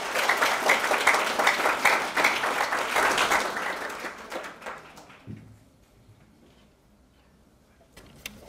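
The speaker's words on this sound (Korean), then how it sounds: "큰 박수로 맞이해 주시기 바랍니다." An audience at a reunification lecture event in Atlanta claps loudly to welcome a speaker. The applause is dense for about four seconds, then fades to scattered claps and quiet.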